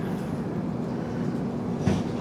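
A Jan Shatabdi express train pulls out of a station on the Shoranur to Thiruvananthapuram line, with a steady, dense low rumble of the carriages and one brief sharper knock near the end. No voices are heard.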